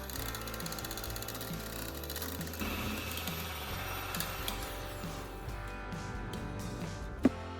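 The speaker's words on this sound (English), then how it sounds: "Then use a whisk or a hand mixer to beat it until it becomes fluffy light and forms soft peaks." A hand mixer whips egg white in a bowl, its motor whirring continuously at a fairly quiet level with a few rattling bursts, and a sharp knock near the end.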